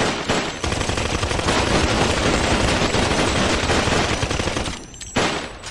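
Sustained automatic gunfire in a GTA street-gang roleplay fight, a dense loud burst running almost continuously for several seconds before a brief drop near the end.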